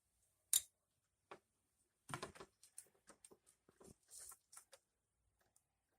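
Scissors cut through a mini blind pull cord in a few sharp close snips, then a scattering of small clicks and rustles of cord handling, faint and quiet with no talk.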